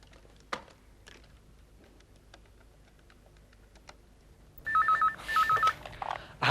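A landline telephone rings near the end, a few bursts of electronic ring tone after quiet with scattered soft clicks and taps.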